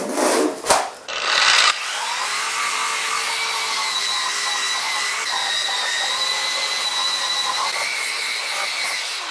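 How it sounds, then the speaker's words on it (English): A drum sander grinds steadily against the rusty sheet metal of a BBQ grill, a sustained abrasive whir after a couple of short bursts and knocks at the start. "Speaking of the drum sander, I can make this look a lot nicer, can't I?"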